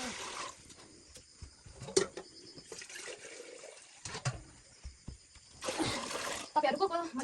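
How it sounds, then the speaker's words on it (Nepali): Water poured into a cooking pot for rice on a home stove, a few bursts of splashing and gurgling pouring separated by quieter gaps, with a voice speaking in between. "अब पानी हालेर भात बसाउने।"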